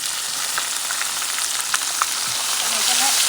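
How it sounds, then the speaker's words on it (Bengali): Chopped onions sizzle steadily in a hot pan alongside chicken liver being browned, a loud continuous frying hiss with occasional crackles and a faint stirring scrape near the end. "এবার এটা ব্রাউন কালার করে ভেজে নিতে হবে"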